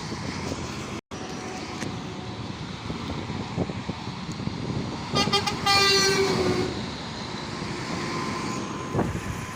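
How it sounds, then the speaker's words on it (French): Amid constant wind and traffic rumble, a truck air horn sounds one long, loud blast partway through, then fades back into the road noise. "Trop bien comme klaxon."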